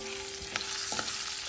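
Green chillies and curry leaves hit hot oil for an amla coconut rice, giving a quiet, steady sizzle with a couple of brief stirring clatters.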